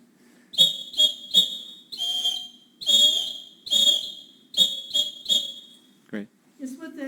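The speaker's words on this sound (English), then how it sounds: "I never heard an SOS on the whistle. Since you have the whistle, can you demonstrate that?" A cheap whistle taps out an SOS in bursts of short and longer shrill blasts, piercing and fairly close, with a brief spoken word toward the end.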